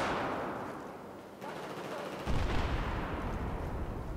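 AK-12 assault rifle fire in Battlefield 4 on PS4, dense rattling gunfire that grows louder partway through and continues steadily to the end.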